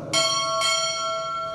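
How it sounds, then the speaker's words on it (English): Two bell strikes ring out at a U.S. Navy chief petty officer pinning ceremony, a pair of bright, clear strokes about half a second apart, their tone sustaining and decaying afterward. "Time order will strike 2 bells"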